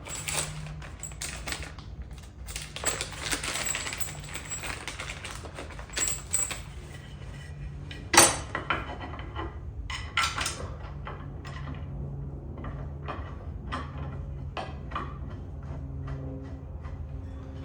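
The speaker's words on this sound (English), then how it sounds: "Time to get the torque converter mounted on." Parts are fitted and bolted as a torque converter goes onto a vintage go kart, with scattered metallic clicks, taps and light clanks, one sharper clank midway, against a low steady background hum.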